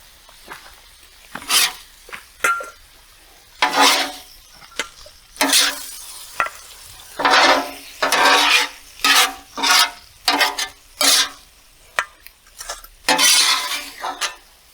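Egg roll in a bowl being stirred on a Blackstone griddle outdoors, a series of rhythmic scraping, swishing strokes of a spatula over sizzling food, each stroke a separate burst, close and loud, with no talk.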